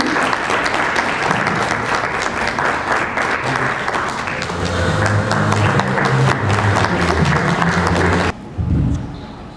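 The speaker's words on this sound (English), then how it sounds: "can we keep the applause going?" Sustained audience applause fills a stage felicitation ceremony at an architecture and interiors design debate in Raipur, with background music underneath, continuous dense clapping that cuts off abruptly near the end.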